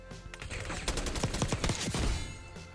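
AK-47 firing in Call of Duty Black Ops 6, a rapid burst of sharp automatic shots in quick succession lasting about two seconds, loud and close, then tailing off.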